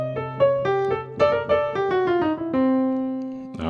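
A gospel piano run built on the blues scale, played alone as a quick cascade of struck chords and notes that rolls downward before settling on a sustained final chord.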